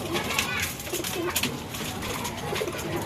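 Breeder pigeons coo steadily in their loft: soft, repeated low throaty calls that overlap, with a constant rustle of movement and faint background voices.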